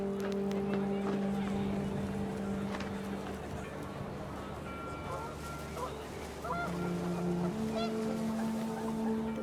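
Panicked geese honking in the video game What Remains of Edith Finch, repeated nasal honks over a windy, low rumbling background, fairly near and moderately loud, with a voice speaking over parts of it.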